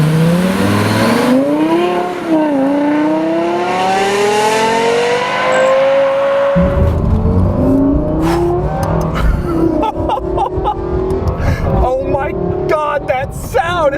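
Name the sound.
Lexus LFA supercar engine accelerating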